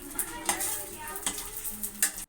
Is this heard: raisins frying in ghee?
yes